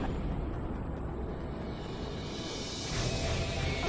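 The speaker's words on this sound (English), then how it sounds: "Friendlies are getting caught in the explosions." Explosions in the air-combat video game Ace Combat 5 produce a dense, continuous rumbling roar with no separate booms, steady and loud throughout and swelling slightly near the end.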